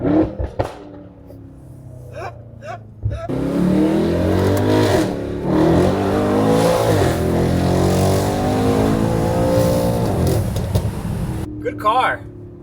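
A Mercedes-AMG E63s with a full titanium exhaust system and downpipes revs loudly and close by, its engine note rising and swelling for several seconds before settling, with people talking around it.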